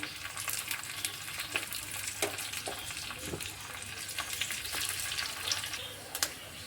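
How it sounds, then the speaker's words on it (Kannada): Curry leaves and coriander frying in hot oil for a dal tempering, a steady close sizzle broken by crisp spitting pops and a few stirring scrapes. "ಕರ್ಬೇವು ಮತ್ತು ಒಂದು ಸ್ವಲ್ಪ ಕೊತ್ತಂಬರಿ ತೊಗೊಂಡ್ರಿ, ಕೊತ್ತಂಬರಿ ಕೂಡ ಹಾಕೋತೀನಿ ನೋಡಿ. ಸ್ವಲ್ಪ ಇದನ್ನು ಫ್ರೈ ಮಾಡ್ಕೊಂಡು"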